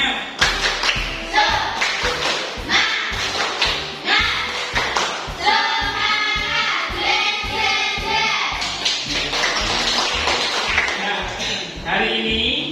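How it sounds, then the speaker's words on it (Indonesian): A classroom of children performs rhythmic spirit clapping together, loud, dense bursts of claps and taps in a repeating pattern, with voices and chanting mixed in throughout. "Ya, yuk kita mulai tepuk semangat."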